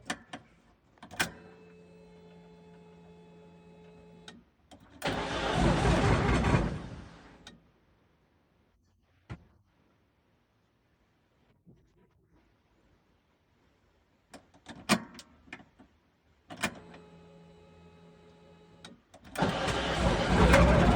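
A VAZ 2109 car, newly converted to fuel injection with a swapped ECU, goes through two loud cranking bursts of about two seconds each, separated by quiet stretches, clicks and a faint electrical hum.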